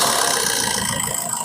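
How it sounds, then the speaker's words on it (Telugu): A used Suzuki Swift Dzire engine idles steadily nearby, a continuous even hum with a faint rattling texture and no change in speed across the short stretch. "ఇంజన్ సౌండ్ కూడా వినిపిస్తాను"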